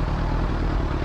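A motorcycle engine rumbles loud and close, a thick, rough low growl that holds steady for a moment.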